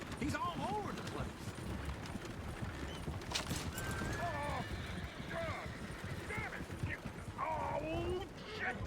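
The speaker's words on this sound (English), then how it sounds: "Oh, shit, the horses! Damn horses!" Horses whinny and neigh repeatedly in Red Dead Redemption 2 over a busy stream of hoofbeats and clatter, with voices talking throughout.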